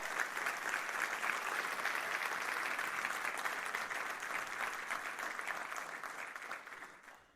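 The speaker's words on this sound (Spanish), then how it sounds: "den un aplauso a este Dios, por favor" A church congregation applauds in a sustained, dense wash of clapping that holds steady for several seconds and then fades away at the end.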